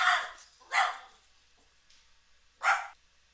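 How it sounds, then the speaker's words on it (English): A female pet dog barks indoors: three sharp, excited barks, two in quick succession and a third after a pause, fairly close but moderate in level, with no talk over them. "my dog got a little excited there"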